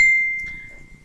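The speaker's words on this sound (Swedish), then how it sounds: "Ja, det var min telefon." A mobile phone gives a single bright notification ding that starts loud and rings out in a slowly fading tone, heard alone in a quiet indoor room.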